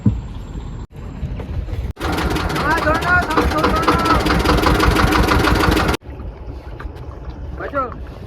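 Small fishing boat engine on a Sundarbans river, loud and steady for about four seconds mid-clip with a clattering throb, after quieter river ambience; voices talk before and after.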